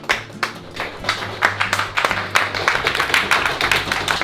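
A few people clap nearby in scattered, uneven claps that pick up and grow denser toward the end, with no talking.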